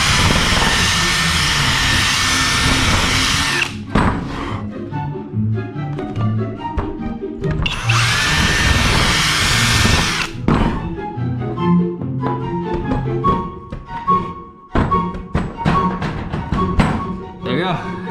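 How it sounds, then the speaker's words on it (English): A power drill whines loudly in two long bursts driving a tight bolt on an old utility trailer, separated by clunks and clatter of parts being handled, with a voice speaking briefly between. "Throw the drill back in there."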